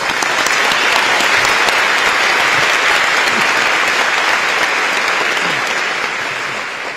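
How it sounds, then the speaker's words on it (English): A large crowd at an American Chamber of Commerce dinner in Taiwan applauds for the vice president-elect. The clapping is loud, dense and continuous, tapering slightly at the close. "please join me in applause for Vice President-elect B. Kim Hsiao, who is with us tonight"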